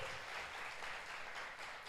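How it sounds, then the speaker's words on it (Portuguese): A church congregation applauds its volunteers in a brief, soft burst of steady clapping that sounds distant and fairly faint. "E eu quero que você honre todas as pessoas que serviram com uma forte salva de palmas, pode ser?"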